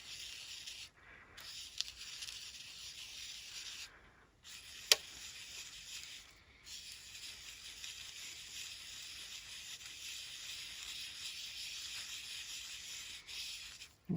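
Gilding flakes are burnished onto a stick by steady hand rubbing, a faint, continuous dry scrubbing hiss with a few brief pauses and one small click along the way.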